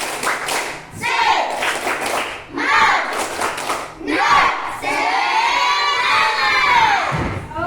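Children in a classroom perform a spirit clap chant, shouting rhythmic syllables in unison with bursts of clapping, loud and close, in several short phrases that end in a long sustained group shout.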